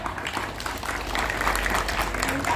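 A crowd at a scout community gathering in East Java breaks into brief, brisk applause, the clapping fairly faint and building slightly over a couple of seconds.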